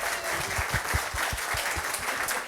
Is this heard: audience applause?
yes